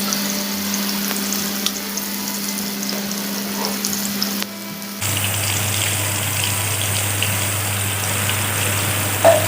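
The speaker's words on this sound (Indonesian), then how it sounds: "Kemudian tumis bumbu dengan sedikit minyak." Blended spice paste sizzles and fries in a little oil in a pan, a loud, continuous close crackle with a steady hum underneath that shifts pitch midway, with no talking.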